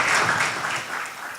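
A church congregation claps for a family, a short burst of moderately loud applause from a crowd that fades slightly toward the end.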